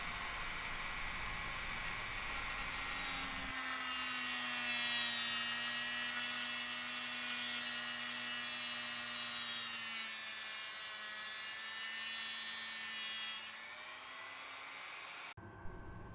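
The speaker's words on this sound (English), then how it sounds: "somebody's gone completely bananas cutting through a multi-layer board" A multi-layer PCB is being cut with a high-pitched rotary tool, a loud steady whine with shifting harmonics that runs nearly continuously for about fifteen seconds before stopping abruptly.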